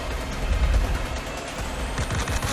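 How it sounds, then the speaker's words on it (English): Gunfire in the VR game Vampire: The Masquerade - Justice, a short burst of shots with low booms, heard alone and fairly close. "A laser scope and then gunfire."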